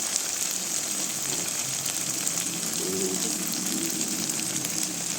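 Mutton curry with ginger, garlic, turmeric and Kashmiri chilli powder frying in a pan, a steady hiss of sizzling that holds at an even level throughout.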